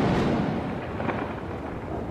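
A deep, rolling rumble of thunder over steady broadband rain hiss, continuous and fairly loud throughout.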